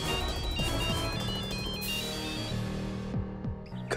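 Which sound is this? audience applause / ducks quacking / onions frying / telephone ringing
telephone ringing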